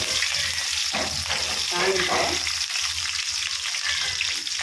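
Onion and green chilies fry in hot oil with a loud, steady, close crackling sizzle and occasional stirring, with no voices.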